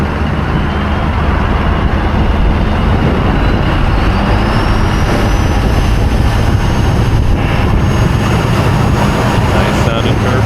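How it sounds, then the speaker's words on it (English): A stock GMC truck engine drives under load, its turbocharger adding a thin whine above a loud, steady rumble mixed with wind noise, continuous and close throughout. "Nice sounding turbo there."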